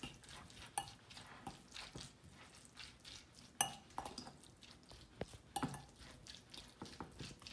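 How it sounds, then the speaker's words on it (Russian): A spoon scrapes and clinks against a bowl as a tuna salad with corn and mayonnaise is mixed, giving irregular soft stirring and sharp metallic taps close by, with no talking. "Все перемешиваем."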